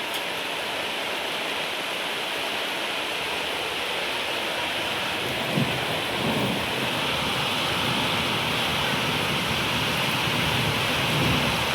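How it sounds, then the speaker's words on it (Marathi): Heavy monsoon rain pours down steadily, a dense continuous hiss of falling water with a faint low rumble building toward the end, no voices heard. "फायनली आता पाऊस आला"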